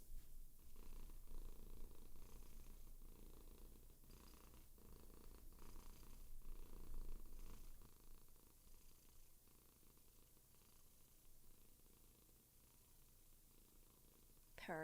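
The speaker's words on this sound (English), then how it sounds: "She's on my lap doing big purrs." A cat lies on a lap purring steadily, a close, low rumbling purr with a soft pulsing rhythm from breath to breath that continues throughout at a fairly quiet level.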